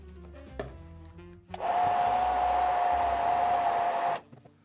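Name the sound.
hair dryer blowing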